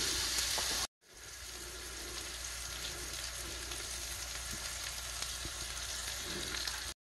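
T-bone steaks with Montreal steak seasoning frying in a pan at a campout by Vernon Reservoir, Utah, a loud continuous close sizzle broken by a brief gap near the start.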